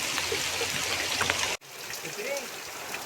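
Heavy nighttime rain pours steadily on a jetty at Tavsal during a crab-catching outing, a dense hiss of drops with a brief cutout midway before the downpour resumes, and no talk.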